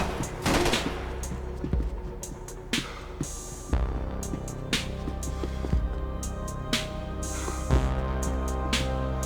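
Dense, sustained gunfire in the video game Max Payne 3, rapid automatic bursts layered with heavier single shots and low booming impacts over a constant throbbing hum, loud and continuous throughout.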